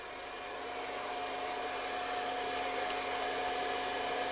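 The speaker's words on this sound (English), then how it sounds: "the massage under the heat from the dryer probably helps with his aches and pains too" A hair dryer blows steadily on a dog at a salon, a continuous close whooshing roar with a faint whine that swells slightly at the start and then holds even.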